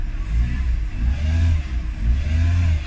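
A five-speed car with a 1.6 petrol engine is revved repeatedly. Close, loud engine surges rise and fall about three times in quick succession, with a faint whine above the rumble.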